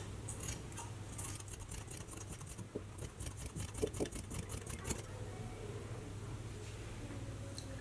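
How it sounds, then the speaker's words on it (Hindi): Scissors cut diagonally through four folded layers of fabric, a quick run of close, crisp snips in the middle of the stretch over a low steady hum, then quiet. "अब मैं इसे तिरछा कट कर लूँगी।"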